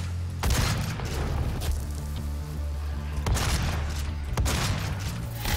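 Shotgun blasts in the video game DOOM fired at Imps, a few heavy booming shots with sharp attacks and rumbling decay, spaced unevenly over a low continuous game drone, loud and close with no talking.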